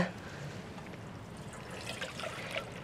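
A thin trickle of milk runs from a cut plastic milk packet into a container, a faint, continuous liquid dribble with a few small splashes near the end.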